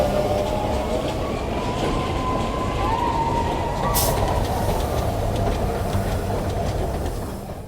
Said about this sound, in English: let's get a ride on the Runaway Mine Train